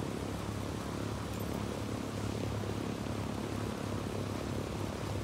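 An airplane flying in the video game Ghost Recon Wildlands: a steady, even engine drone with a broad noisy roar, constant in loudness throughout and with no talking.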